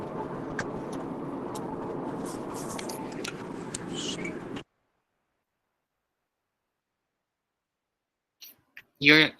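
Car interior noise comes through a student's open microphone during an online lecture: a steady engine and road rumble with some clicks for several seconds, then sudden silence, then brief voice fragments near the end.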